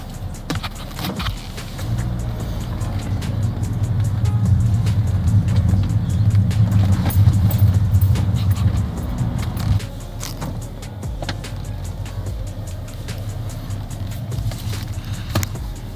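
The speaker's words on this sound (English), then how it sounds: "My car, that's the Wraith" An all-black Rolls-Royce Wraith drives along with a low, smooth engine and road rumble that swells through the middle and then eases, with scattered small clicks and rattles.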